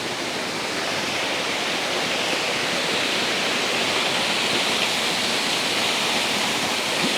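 A small waterfall pours into a pool beside a mountain hiking trail on the Monk's Trail in Chiang Mai, Thailand, making a steady, close, full rushing roar with no voices throughout.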